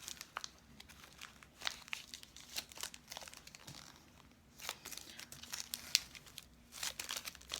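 Double-sided adhesive tape is handled and peeled to mount a bee spinner card base, giving close, quiet crinkling and soft tearing crackles in irregular bursts, with no talking.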